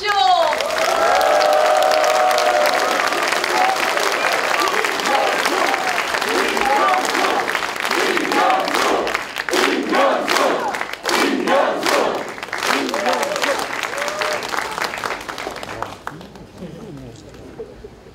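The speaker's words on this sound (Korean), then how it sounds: "경려 박수 한번 보내주십시오!" Loud crowd applause and cheering at a Democratic Party regional rally in South Gyeongnam, sustained across the whole stretch and tapering off near the end, with shouts mixed into the clapping.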